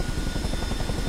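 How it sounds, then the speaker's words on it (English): Steady whirring drone of a CH-47D Chinook tandem-rotor helicopter engine in the flight simulator MSFS 2024, a continuous close rumble with a faint rhythmic rotor pulse and no voices. "if you coerce the helicopter to move, you can push the stick forward and it will then move."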